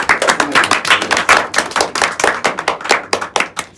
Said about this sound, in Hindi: इसके लिए ताली बजाइए पहले